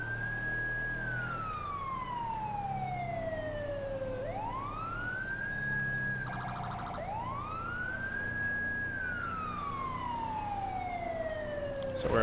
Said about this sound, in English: We do have uh, lights and sirens on these trucks.